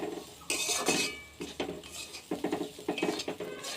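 A utensil stirs semolina in a pan, making scraping strokes and light metallic clinks in an irregular rhythm, close and fairly quiet.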